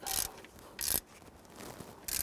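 Ratchet wrench tightening the rear alternator bracket bolt on a 2006-2012 Toyota RAV4 3.5L V6, giving short bursts of rapid clicking separated by quieter pauses, close up with no talking.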